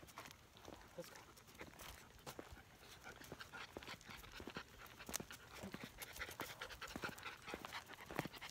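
Standard Poodle puppies, thirteen weeks old, pant steadily at close range, the rapid breathy rhythm running throughout with scattered scuffles and footsteps, and a person talking softly in between.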